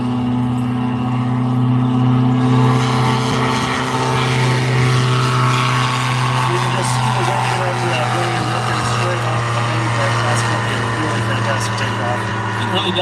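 A light STOL aircraft, a Chinook, drones steadily overhead during a competition lap, its loud propeller and engine hum holding a constant tone while a commentator talks over it throughout.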